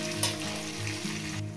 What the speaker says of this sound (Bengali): আলুগুলো আমি ভাজার মধ্যে সিদ্ধ করে নেব।